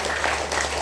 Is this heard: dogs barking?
no